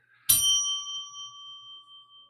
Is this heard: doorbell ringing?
yes